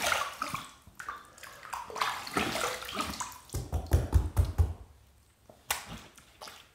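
Tap water runs into a bathroom sink for a rinse after a shave with Gillette Slim and Fatboy razors, splashing and gurgling in uneven bursts up close, with brief pauses and hand splashes.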